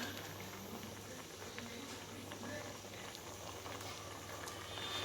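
Sambar simmering in a pot gives off a steady, soft bubbling hiss over a faint low hum, continuous and close.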